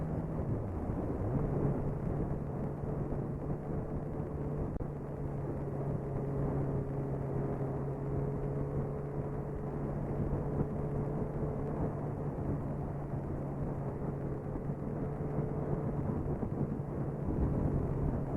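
A Suzuki GSX-R 1000 motorcycle engine hums steadily while being ridden, a smooth, even drone at constant speed with heavy wind rush over it and no one speaking.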